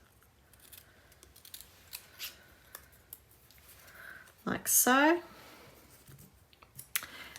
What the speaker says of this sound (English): Again, just freehand with my scissors.